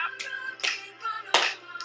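Hands clapping in a double dream hands dance routine: several crisp, close claps spaced unevenly over a couple of seconds, with a faint steady hum beneath.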